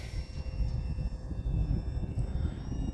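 An HK Durafly Tundra V2 radio-controlled airplane flies outdoors in some wind, its small electric motor giving a steady, moderately loud drone with a faint high whine, without any voices.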